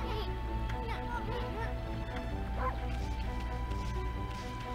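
A cartoonish dog bark and yips from the video game Ōkami, a short burst of bright bow-wow sounds over layered game music and ambience.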